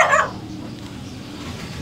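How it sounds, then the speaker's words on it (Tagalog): A single dog bark rings out sharply at the start, then fades into quiet outdoor background hum. "May aso."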